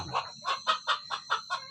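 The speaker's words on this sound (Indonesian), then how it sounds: "Sudah bisa ayam kampung kita ini makan dengan yang lahap" Free-range village chickens (ayam kampung) cluck while feeding, a run of about eight short, rhythmic clucks in quick succession, close and clear.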